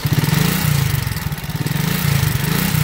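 A small engine runs close by with a loud, rapid, throbbing exhaust note, pulsing evenly at idle with slight rises in revs throughout.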